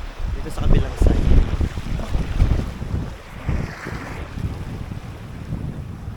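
Gusty wind buffets the microphone at an island campsite in the open, with broadband rushing rising and falling in loud bursts early on, then easing into a steadier, lighter blow.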